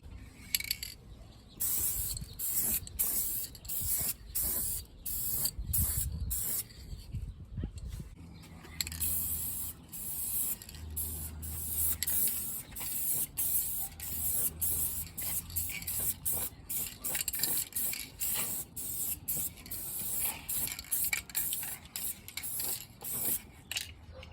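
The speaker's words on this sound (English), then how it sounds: "if you spray it well, it looks good right away with just one coat" Spray can applying a coat to a Nissan 370z headlight during restoration, rapid bursts of hissing spray with short pauses and clicks, close and fairly loud, repeating over about twenty seconds without talk.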